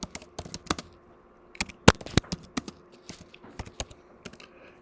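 Someone types a chmod command on a computer keyboard, a quick close run of crisp key clicks in uneven bursts, with a couple of harder taps and short pauses between them.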